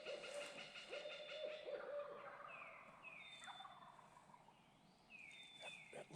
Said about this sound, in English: Got a barred owl that's going crazy.